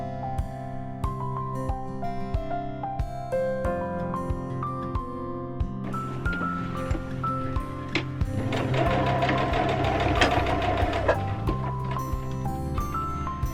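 A sewing machine stitches around a piece of fabric for a cross-body phone and wallet bag, its steady mechanical whirring running near and continuous with some rhythmic ticking and no talk.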